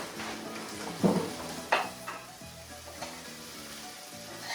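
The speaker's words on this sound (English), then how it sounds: "this is going to cook up for a few minutes until it gets nice and crispy" Greek home fries, potatoes frying in a pan, sizzle steadily up close. A couple of sharper scrapes and clinks from stirring cut through the crackle, and nobody talks.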